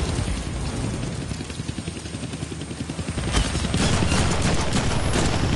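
Rapid automatic gunfire from guns in the Deadpool video game, a dense, continuous loud rattle of shots that swells louder toward the end, with no talk over it.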